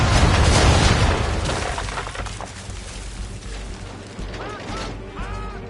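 Ship cannons firing round shot in the naval battle of Assassin's Creed 3, a heavy booming volley at the start that decays into rumbling, creaking wood and mechanical rattles, with faint whistling tones near the end.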